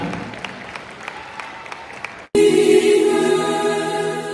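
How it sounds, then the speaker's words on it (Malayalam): Applause welcoming the St George family unit's fusion dance group to the stage: scattered claps at first, then a sudden swell of full crowd clapping that stays loud and steady, with music starting underneath. "സെയിന്റ് ജോർജ് കുടുംബ കൂട്ടായ്മയ്ക്ക് നല്ലൊരു ക്ലാപ്പ് കൊടുത്ത് അവരെ നമുക്ക് സ്റ്റേജിലോട്ട് സ്വാഗതം ചെയ്യാം"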